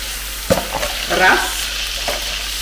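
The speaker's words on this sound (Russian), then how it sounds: "Выкладываю заранее промытый рис." Washed rice hits a hot pan with a sudden crackle, then sizzles and rustles as it is stirred, a moderate close frying hiss that settles into a steady low sizzle.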